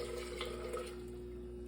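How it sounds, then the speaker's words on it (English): Water pouring into a pot over a bag of herbs, a soft, steady trickling splash heard up close and faint, over a low background hum. "So I'm just gonna go ahead and pour that in there."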